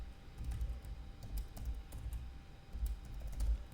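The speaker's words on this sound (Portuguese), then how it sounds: "estou digitando muito errado" Someone types on a computer keyboard while writing Python code, quick faint clicks and taps in an uneven rhythm over a low background rumble, with no one speaking.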